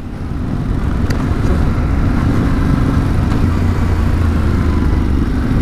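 A 2022 Yamaha Ténéré World Raid motorcycle engine runs steadily while riding, a loud, continuous close drone with wind rush and a slight rise in pitch partway through.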